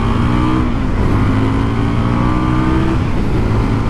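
A 2019 Indian FTR 1200 S motorcycle engine pulls hard, its loud droning roar rising steadily in pitch as the revs climb, close and continuous with no talk.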